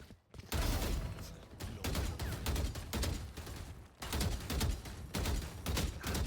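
Gunfire in the video game Valorant, rapid bursts of shots in quick succession with brief pauses between volleys, loud and dense throughout.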